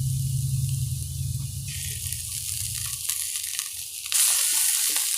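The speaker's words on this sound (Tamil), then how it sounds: "இப்போ நாம் இஞ்சி பூண்டு விழுதை சேர்த்துடலாம்." Ginger garlic paste goes into onions frying in a pan for a Tamil potato coconut gravy, giving a steady close sizzle that builds brighter and louder near the end, with no talking.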